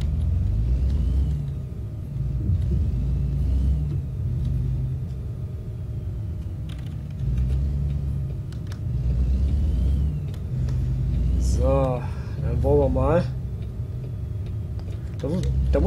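Truck engine in American Truck Simulator rumbling low and steady throughout, with a few ticking clicks and short whining tones near the end, under someone speaking German.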